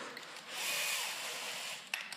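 A steady, high-pitched whirring of a combi drill running continuously, fairly quiet, with a brief knock near the end.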